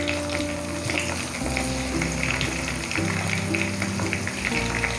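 Chopped tomatoes sizzling in a pan of Kerala-style pepper crab roast masala, a steady close frying hiss with stirring noises and no talking.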